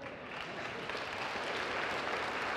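Congregation at a Sunday evening Mass clapping after the homily: a soft, steady wash of many hands from across the church, fairly distant and unbroken throughout.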